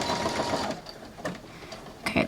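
A sewing machine stitches fabric for a headband, sewing forward and then back-stitching in a steady close whir with brief pauses.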